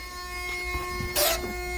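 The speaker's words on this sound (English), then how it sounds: "Get in and close that so we don't have to listen to that chime" A 1972 Buick Skylark two-door hardtop sounds its door-open warning chime, a steady, faint tone running throughout with a short louder burst near the end.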